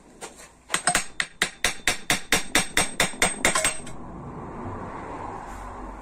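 A citroën GSA 1300 engine's crankcase halves are tapped apart with an improvised non-official tool: about fifteen sharp, evenly spaced metallic knocks at close range, then a quiet workshop hiss with no talk.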